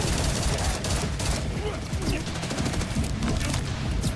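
Dense, continuous gunfire in the game Borderlands, a rapid stream of overlapping shots and impacts filling the clip at steady loudness, with voices talking over the action.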